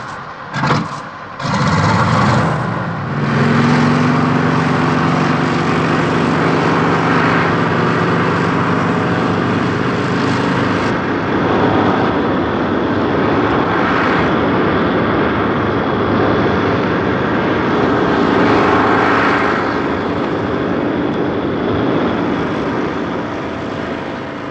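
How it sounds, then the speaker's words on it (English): A Saunders-Roe hovercraft engine runs loud and steady throughout, a continuous propeller-like roar with a brief sputter at the start before settling into a sustained drone. "The engine makes the dickens of a row."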